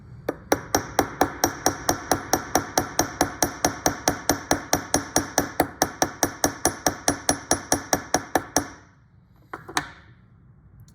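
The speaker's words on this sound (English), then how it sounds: "Go back to your hammer" Someone hammers a metal wire rivet for a handmade key chain with a fast, even run of about forty sharp metallic taps. The strikes are close and loud, then they stop and a couple of scattered knocks follow.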